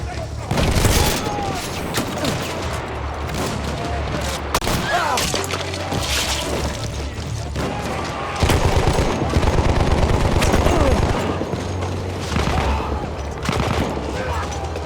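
Dense video game gunfire across the whole stretch: rapid bursts and single shots crack over booming explosions and thuds, loud and close, with players talking over the battle.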